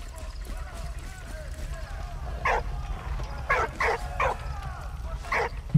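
A dog in the video game Valiant Hearts gives several short yips and barks in a quick cluster midway, over a low steady background hum, with someone talking at the same time.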